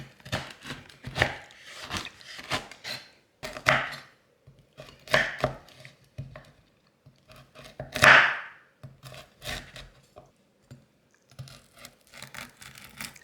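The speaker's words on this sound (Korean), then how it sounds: "10분 후에 굳었는 걸 한번 썰어 보겠습니다" A knife cuts through hardened Korean nut brittle (gangjeong) on a board, a series of crisp, crunchy chops and cracks at an irregular pace, with one louder snapping slice midway and short quiet pauses between cuts.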